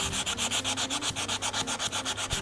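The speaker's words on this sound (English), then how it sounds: "remove as much of the rust scale as we can in a bulk way" Rust scale scrubbed by hand off the hub of a vehicle disc rotor, a fast, even back-and-forth rasping of about seven strokes per second, close and loud, with no voices.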